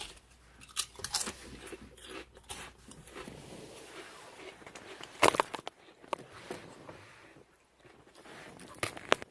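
Crunchy Simply 7 quinoa chips being chewed up close, with a string of sharp, irregular crunches and bites spread across the span, some loud bursts between quieter munching.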